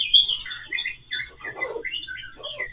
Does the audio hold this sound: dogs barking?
no